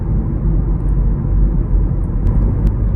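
Inside a Volkswagen T-Roc cruising at 40 km/h, a low, steady road and tyre rumble fills the cabin, calm and even, with a few faint clicks near the end.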